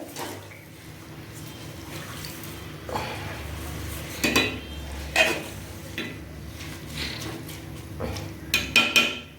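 Spinach kulambu stirred in a cooking pot, a ladle knocking and scraping against metal in scattered clinks over a faint background hiss, mostly moderate and close.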